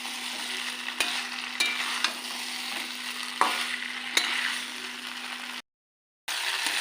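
Chickpeas stir-fried with spices in a pan give a soft, steady sizzle with occasional light scrapes and taps of a spoon, then a brief cut to silence before the frying resumes.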